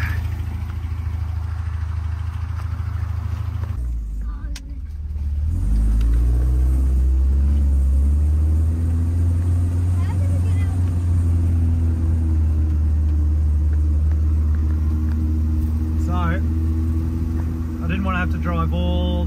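A Toyota Hilux rolls down a clay trail with its hubs locked, a steady low engine rumble filling the cab, a brief dip in the middle, and faint voices talking over it.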